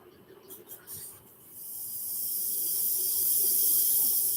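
Steam hissing in a video game kitchen, starting with a few soft puffs and then building into a loud, sustained bright hiss that holds steady to the end.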